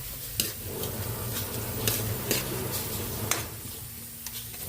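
Pork cubes frying in a pan as they are stirred, a soft steady sizzle broken by repeated scraping and clinking of the utensil against the pan, fairly quiet and with no talk.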